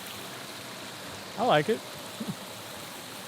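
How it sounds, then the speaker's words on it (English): A small waterfall on the Oregon Coast gives off a steady, even rush of falling water that fills the whole clip. A person speaks a short remark over it. "this is a pretty cute little waterfall too."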